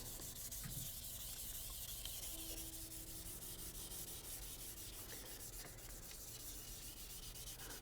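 Light scuff sanding along the back of a wooden guitar neck, a soft, continuous close rubbing hiss with subtle stroke rhythm, faint and steady, without talk.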